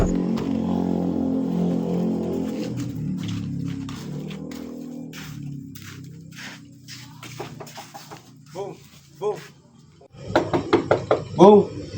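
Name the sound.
knocking on a house door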